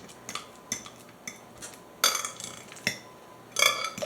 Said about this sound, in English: So I just want to mash it up pretty fine.